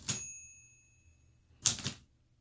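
An old typewriter handed down from a grandfather strikes two separate heavy key clacks, each followed by a ringing metallic tail, close and loud against quiet.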